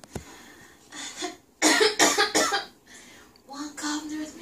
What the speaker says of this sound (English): One cough